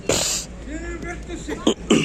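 A brief cough or throat-clearing burst near the mic, followed by a couple of short sharp coughs, mixed with some vocal sound.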